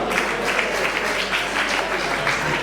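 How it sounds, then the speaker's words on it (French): An audience at a comedy gathering claps steadily in a dense, even wash of applause, with some murmuring from the crowd mixed in. "Applaudissons s'il vous plaît."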